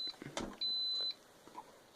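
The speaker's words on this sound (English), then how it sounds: "plug it in, and it'll beep a bit." A racing drone battery charger gives a single steady electronic beep for about half a second, faint and close, after a soft click of plugging in.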